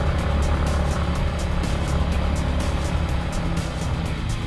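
A motorcycle engine revving hard uphill on a rough rural road, a loud steady droning roar held throughout with slight pulsing, close up.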